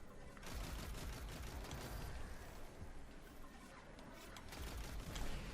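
Dense, loud combat noise from Warmind cell explosions triggered by Achilles weapons in Destiny 2, a continuous rumbling barrage of blasts and crackling bursts that swells toward the end, with no talking.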